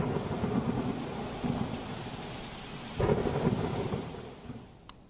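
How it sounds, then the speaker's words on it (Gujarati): Heavy monsoon rain pours steadily in Gadhada, Botad, with a loud thunderclap rumbling midway through, the downpour continuing alone without voices. "બોટાદના ગઢડામાં ધોધમાર વરસાદથી પૂર જેવી સ્થિતિનું સર્જન થયું છે"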